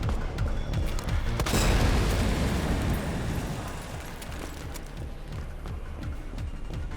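Gas cylinder shot in Resident Evil 2 gameplay, giving a loud sharp gunshot followed by a big booming explosion that rumbles and fades over several seconds.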